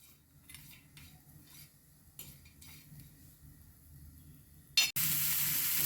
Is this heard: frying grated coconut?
yes